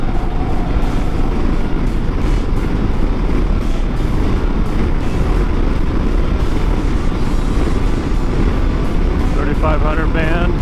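A 2023 Harley-Davidson Road Glide CVO at speed, its engine a loud, continuous roar mixed with wind rush, held steady through the whole stretch.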